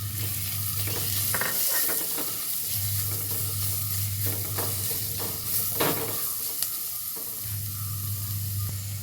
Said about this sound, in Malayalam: ഇനി ഈ എണ്ണയിലേക്ക് വെളിച്ചെണ്ണയിലേക്ക് ഉള്ളി ഇട്ട് കൊടുക്കട്ടെ ചെറിയ ഉള്ളി അരിഞ്ഞ് വെച്ചത് ഒന്നിളക്കി കൊടുക്കാം